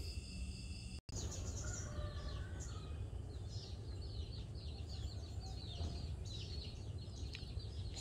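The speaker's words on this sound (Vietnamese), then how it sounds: "Sáng sớm ra giường chim kêu quá kêu." Early-morning birdsong in rural Sóc Trăng, Vietnam, with several birds chirping and trilling at a moderate distance over a soft outdoor background hiss, continuous with no talking.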